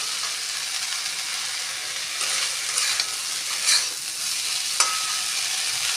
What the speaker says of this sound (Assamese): এনেকৈ 1 মিনিটমান সময় ভাজি লওঁ